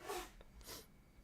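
A single quick sneeze, sharp and breathy, followed by a short exhale, heard up close and faint.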